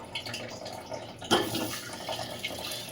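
Water falls steadily into a bucket set under a stream at home, a continuous splashing patter that grows louder and fuller partway through, with no talking.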